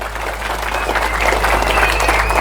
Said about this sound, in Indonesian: Maka tepuk tangan untuk para kiai dan pesantren.